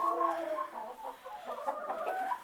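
Chickens in a henhouse clucking softly and continuously, several hens murmuring close by without talk.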